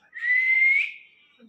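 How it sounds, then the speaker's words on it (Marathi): A person whistles one steady, sustained note lasting about a second, close and fairly loud, then fades out with a faint trailing tone. "वाजवा शिट्ट्या"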